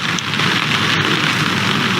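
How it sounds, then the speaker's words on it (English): Heavy rain pours steadily at an LPGA golf tournament's final round in windy weather, a dense, even hiss with no pause and no talking. "The wind's got up, the rain's coming down as Georgia Hall steps onto the 17th tee box."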